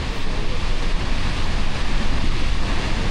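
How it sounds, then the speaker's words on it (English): Roar of the huge Snoqualmie Falls, a steady, loud, dense rush of falling water filling the whole span without a break, with no voices heard. "This waterfall is huge."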